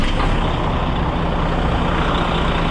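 A PFG delivery truck's engine runs after being fired up to warm, a loud, steady diesel roar with a constant low rumble and broad hiss, close by and alone.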